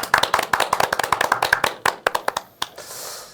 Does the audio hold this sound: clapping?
yes